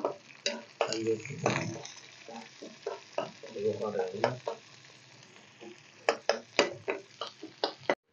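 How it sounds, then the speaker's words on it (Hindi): Onions fry in a pan for a potato and tomato curry, sizzling steadily while a spoon scrapes and clatters against the pan in quick bursts, loud and close, with a few pauses between strokes. "हमारी देखिए प्याज अच्छे से भून रही है"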